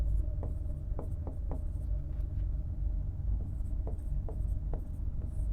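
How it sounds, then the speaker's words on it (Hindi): Handwriting with a pen, heard as a series of faint scratchy strokes in irregular clusters over a low, constant rumble of background traffic. "तो ये मैं लिख देता हूं यहां।"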